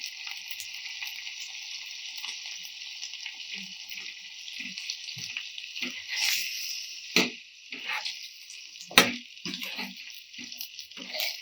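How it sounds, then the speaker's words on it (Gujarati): Pea paste frying in a garlic and asafoetida tempering for Gujarati kadhi, a steady sizzle with scattered stirring scrapes and knocks growing more frequent toward the end. "નીચે ચોંટે નહીં એ રીતે આપણે સારી રીતે આને વઘારને કૂક થવા દઈશું"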